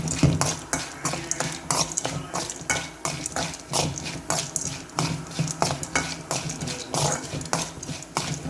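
A spoon stirs black sesame seeds into a hot tempering in a pan, scraping against the metal in quick, busy, uneven strokes. The clatter stays close and fairly loud throughout.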